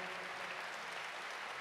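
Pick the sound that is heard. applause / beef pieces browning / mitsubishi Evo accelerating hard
applause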